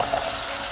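Steady broadband sizzling of onions, then diced carrots, sautéing in a pan, a continuous hiss at moderate level with no talking.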